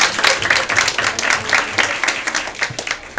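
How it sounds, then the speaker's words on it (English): Audience applause for a young woman on stage at a fan event, a steady dense wash of clapping from a sizeable crowd with scattered sharper claps, fairly loud and continuous throughout with no talking. "A big round of applause for this brave young lady."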